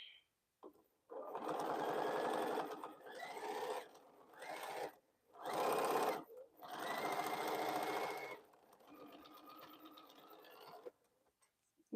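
Sewing machine stitching a fabric bowl cozy, running in several loud, steady bursts separated by short pauses, close up with no talking.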